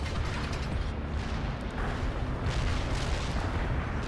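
Artillery fire in the real-time strategy game World In Conflict makes a dense, continuous rumble of booms and blasts, loud and layered without pause.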